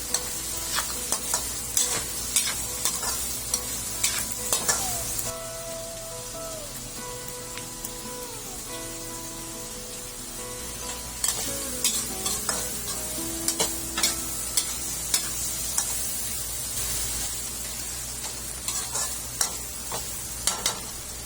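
Tomatoes and chilies sauté in a pan for a Filipino milkfish (bangus) dish, with steady sizzling and frequent stirring clinks and scrapes running throughout at close range, no voices.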